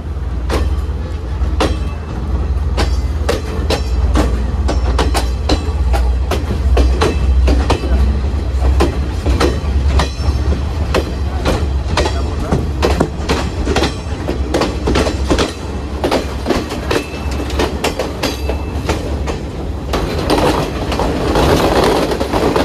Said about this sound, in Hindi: चल पड़ी है अपनी ट्रेन